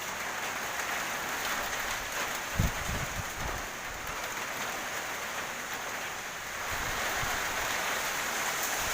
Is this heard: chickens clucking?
no